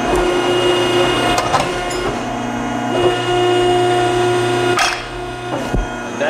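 A blade on an ironworker machine cuts aluminum in the angle iron slot with a loud, steady mechanical grinding drone. Sharp clanks and snaps break through it at intervals.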